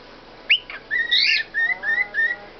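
Meeko, a pet bird, gives a run of close, clear whistles, with a sharp opening chirp followed by several sustained, wavering whistled phrases in quick succession against a quiet background.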